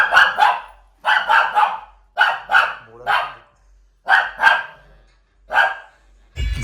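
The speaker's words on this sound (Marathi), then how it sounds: "माझ्यावर भुंकते सारखी, तिला मी आवडत नाही, माझ्या सतत भुंकत असते" A dog in a Konkan village near Alibag barks loudly and close by in short bursts of two or three sharp barks, with brief pauses between the groups.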